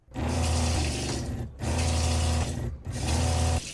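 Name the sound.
water pump running as camper sink tap is turned on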